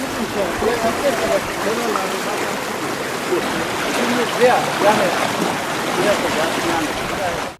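The Limonlu creek, flooded and overflowing from rainwater and snowmelt, rushes as a loud, continuous broadband roar of churning water, steady throughout.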